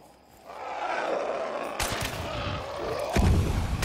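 Gunfire in the shooter game Hunt: Showdown, two loud close reports roughly a second apart with rolling echo and a low boom over a rumbling outdoor ambience, no talking.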